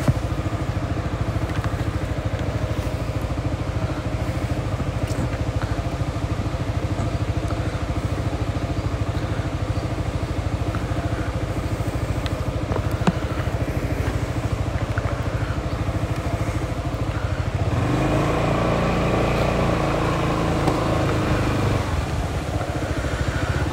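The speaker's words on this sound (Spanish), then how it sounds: "gracias a estas motos, estas naves que tenemos, marca Yamaha" Yamaha motorcycles riding through Soyapango streets, their mid-pitched engines droning steadily and close for the whole stretch, with a shift in engine tone near the end.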